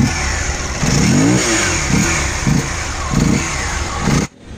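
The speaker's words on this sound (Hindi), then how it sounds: "उससे पहले मैं आपको एग्जॉस्ट नोट दे देता हूँ इसका।" Hero Xpulse 200 motorcycle, a 200 cc demo bike, blipped through its exhaust while standing, a series of five or six short rising revs over a steady idle, close and loud, ending abruptly.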